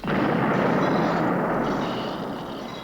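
Dense, continuous rumbling barrage of distant artillery bombarding a city, heavy booms blending into a steady roar that slowly eases toward the end.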